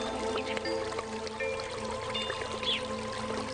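Water pours steadily over flower leaves, a continuous close splashing trickle with a few faint tonal chirps in the background and no talking.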